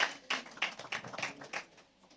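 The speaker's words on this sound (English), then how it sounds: "Round of applause, please." Applause from an audience at a gender summit book launch in Nigeria, a short burst of irregular clapping that rises quickly and thins out within about two seconds.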